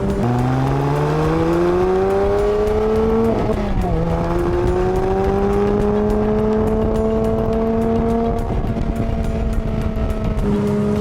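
A 2019 Porsche 911 Speedster's engine and sport exhaust drone loudly and steadily with auto blip on, the revs climbing smoothly, dipping briefly near the four-second mark, then rising again, with no voices.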